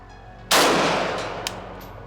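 A single loud, close Zastava M77 .308 AK rifle shot fired outdoors on gas setting 1, a sharp crack with a long decaying echo and a faint second report about a second later.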